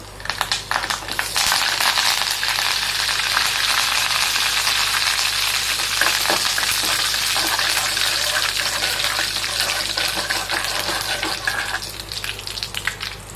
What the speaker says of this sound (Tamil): கடுகு நல்லா பொரியட்டும், கடலப்பருப்பு நல்லா செவந்து வரட்டும்.